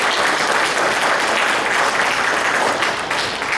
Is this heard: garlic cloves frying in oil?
no